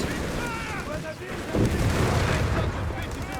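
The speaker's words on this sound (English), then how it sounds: "Grenades being chucked." Grenades burst amid Company of Heroes 3 combat, dull booms and crackling blasts rolling beneath a commentator's steady talk, with background battle noise throughout.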